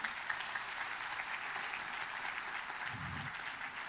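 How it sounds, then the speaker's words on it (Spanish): Continuous crowd applause at a church service, steady and even, heard from a moderate distance. "denle un aplauso al Señor"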